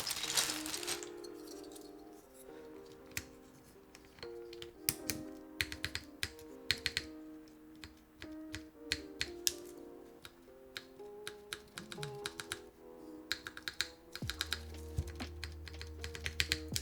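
Steady clacky typing on a newly built Neo80 mechanical keyboard, close and fairly loud, with dense bursts of keystrokes and a few heavier thocks, played over a sustained low tonal hum in the background, with no talking.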